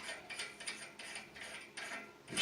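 A fitting on a Hoffman #7 steam radiator valve is loosened by hand, producing a rhythmic series of faint, close ratcheting clicks in quick bursts, with a louder metallic clunk at the end and no talk.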